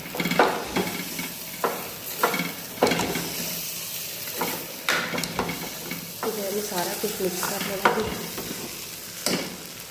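Tadka tempering with turmeric sizzles in a cooking pot for rice, with repeated scraping stirs and crackling hiss throughout, close and fairly loud, without clear talk.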